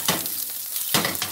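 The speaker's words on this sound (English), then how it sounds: "You want to sort of let them sit in the pan for a bit, and then you move them." Onions frying in a pan for Chinese takeaway-style chicken fried rice make a close sizzle broken by two loud scraping bursts as they are moved around.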